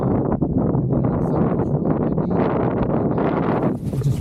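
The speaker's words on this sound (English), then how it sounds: "See, now it's nice and gusty." Strong gusty wind on open water while flying a parawing batters the microphone in loud, uneven rumbling bursts that swell and ease, with no talk.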